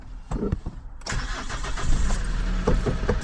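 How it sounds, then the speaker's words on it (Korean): The diesel engine of a Hyundai Porter 2 truck with a box body, at 56,816 km, cranks briefly with a few clicks, catches, and settles into a loud, steady idle close by. "시동을 한번 걸어볼게요"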